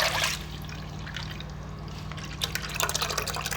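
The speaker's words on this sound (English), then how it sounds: "I pour everything into the pot." A homemade yogurt milk mixture is poured into a pot, a soft continuous liquid trickle and splash that swells slightly near the end, with no talking.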